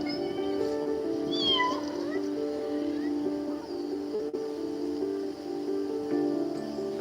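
A kitten meows several times, high and thin, over a steady droning hum, with a few repeated mews clustered in the first seconds and fainter ones later.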